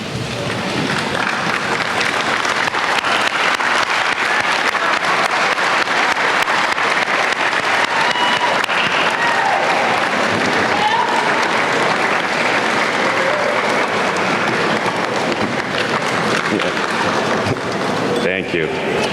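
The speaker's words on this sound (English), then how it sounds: "giving them a heartfelt round of applause for everything they have done" A graduation ceremony crowd gives families a long, loud, sustained round of applause, dense clapping filling a large hall for nearly twenty seconds, fading slightly at the very end.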